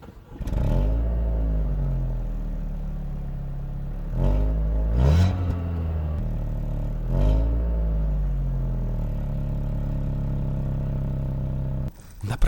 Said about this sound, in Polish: A teraz słuchajcie, jak fajnie warczy wydech.